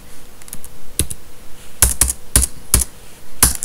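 Computer keyboard keys are struck in sparse, irregular clicks while code is typed for a hangman game, a few scattered taps early then a cluster of sharper, louder keystrokes, close and alone with no talk.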